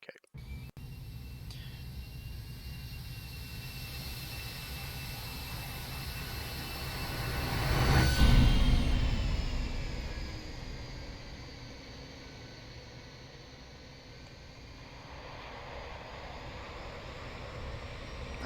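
An airliner landing in the X-Plane 11 flight simulator, heard as a steady broadband engine and air roar that swells to a loud peak midway, then eases off into a lower rumble.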